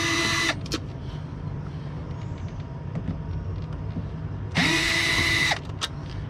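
Power drill backing out door lock screws on a Freightliner Columbia truck: two short, loud whirring bursts at the start and near the end, each followed by a click, over a steady low idling hum.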